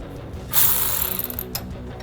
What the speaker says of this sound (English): Using a T30 socket and a 16 millimeter wrench, I'm going to start to tighten down our sway bar link nut.